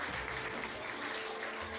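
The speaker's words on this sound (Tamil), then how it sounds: "நல்ல பலத்த கைத்தட்டல் கொடுப்போம் சௌந்தர்யா" An audience claps for Soundarya at a songwriting session with a lyricist, a brief, fairly quiet patter of many hands that carries evenly to the end.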